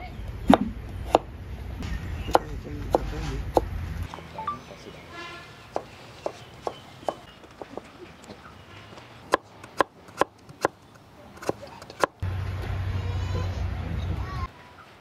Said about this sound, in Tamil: ஸோ இந்த பப்பாயில் வந்து சரியாக 30 கிராம் வந்து வெட்டி எடுக்கிறா சின்ன சின்ன மெல்லிய மெல்லிய பீசஸா